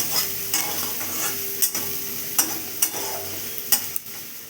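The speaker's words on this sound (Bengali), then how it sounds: "ওই তেলেই দিয়ে দিলাম তেজপাতা আর পেঁয়াজ পেঁয়াজ পাতা" Oil sizzles steadily in a pan as bay leaves and onions fry, with several sharp scraping clicks of a stirring utensil spaced irregularly over a continuous frying hiss.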